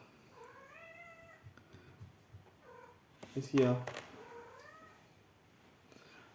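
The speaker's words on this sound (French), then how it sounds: "il y a mon chat qui miaule" A house cat meows several times indoors, rising little cries followed by one loud, drawn-out yowl, while someone briefly speaks in French.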